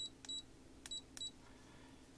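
A multimeter set to continuity gives three short, faint electronic beeps in quick succession as its two leads touch, against a quiet room.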